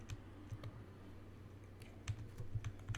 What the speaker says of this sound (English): I'm typing aquaculture.